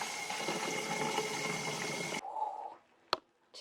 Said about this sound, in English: Now let's fill up the water.